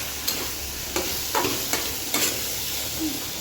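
Food sizzles as it fries in a pan, with a continuous loud crackling hiss and several distinct scraping stirs at irregular intervals, close by, nobody talking.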